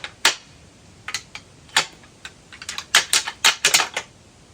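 Whitetail deer antlers are rattled together to imitate fighting bucks, making sharp clattering clicks and clacks in irregular bursts with pauses, picking up into quicker clusters toward the end, close and alone.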